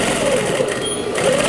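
A sewing machine stitches a zipper into the side seam of a simple synthetic-fabric zippered pouch, a steady close motor whir running unbroken with no voices.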